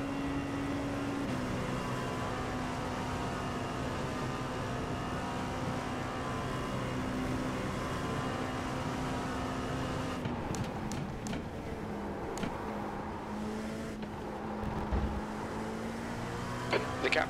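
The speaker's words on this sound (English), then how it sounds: "There's a faster class car approaching." Sim racing game car engine droning steadily at Spa-Francorchamps, with a faster class race car approaching and sharp clicks and bumps layered over the sustained engine note later on.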